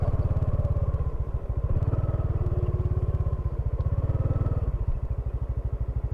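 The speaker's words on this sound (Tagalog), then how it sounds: "Sayo na yung motor natin." A Honda XRM motorcycle engine runs close by with a steady, rapid low thump throughout, rising slightly in pace near the end before a sharp clatter at the very close.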